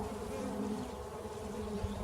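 Honey bees from a nuc hive buzz steadily throughout an open inspection, a dense continuous drone close by with no talk over it.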